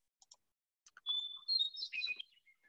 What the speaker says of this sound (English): I assume you can probably hear the particular call of this bird that's pictured here, Western Meadowlark.